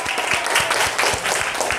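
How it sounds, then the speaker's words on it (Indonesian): Several people clap hands together in a classroom, a brief, steady patter of overlapping claps close by with no talk over it. "Dah, tepuk tangannya."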